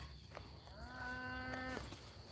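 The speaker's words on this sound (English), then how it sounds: "You're gonna see your cows running." Cattle on a farm give a single drawn-out moo, fairly clear though somewhat distant, over low outdoor background noise.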